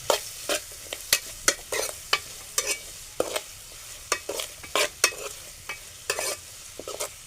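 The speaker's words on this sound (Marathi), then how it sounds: "आता चांगलं परतून घेऊया" Pokla greens, a kind of green amaranth seasoned with salt, are sautéed in a pan. Quick, uneven scraping strokes of a spoon repeat many times over a soft, constant sizzle, close and clear.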